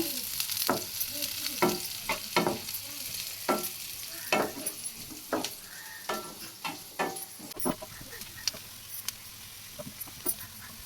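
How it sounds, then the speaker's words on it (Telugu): Green chillies and onions fry with mustard and cumin seeds in a pan for a chicken buttermilk curry, a continuous sizzle broken by frequent rhythmic scrapes and taps of a spatula stirring, close and moderately loud. "పచ్చిమిర్చి, ఉల్లిపాయలు, ఇవి కొంచెం ద్వారగా గోల్డ్ కలర్ వచ్చేటట్టు వేపుకోవాలి."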